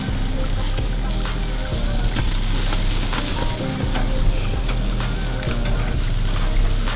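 Chicken sizzles and crackles loudly over a charcoal fire as the flames rise to char the skin, a steady dense frying hiss with scattered pops, close and continuous.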